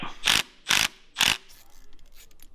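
Impact gun on a tow truck bolt, giving three short loud bursts of rattling hammering, each about a fifth of a second, followed by quieter clinking and rustling.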